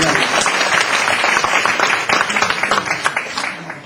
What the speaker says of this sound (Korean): 박수로 경례합니다